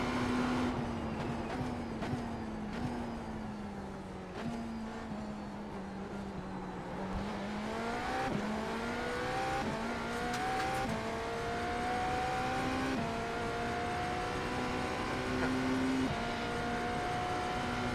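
Race car engine in the iRacing sim game revving loudly and continuously, pitch climbing and dropping through gear shifts over a steady roar, with no talking.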